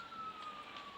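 A police car siren wails steadily in the Vegas Crime Simulator 2 video game, a single sustained tone that stays faint and moderately distant.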